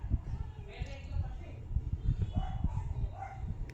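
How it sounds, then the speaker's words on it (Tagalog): Several dogs bark and yip repeatedly at middle distance outdoors under an overcast sky, with a steady rumbling background and people talking over them. "Ang dami aso nila dyan."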